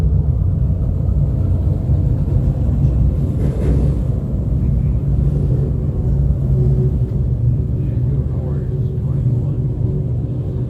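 A field of 24 358 small-block modified race cars at Can-Am Speedway makes a steady, loud low engine rumble as they circle under caution behind a pace truck, with an announcer talking over it.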